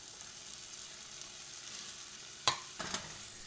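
Tomato and its juice stirred into a hot cooking pan, a soft continuous sizzle followed by two clear stirring scrapes near the end.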